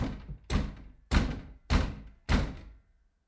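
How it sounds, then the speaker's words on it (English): Four heavy, resonant bangs on a studio door, evenly spaced and loud, with a fainter knock at the start and a short decay after each. "someone's banging on my studio door"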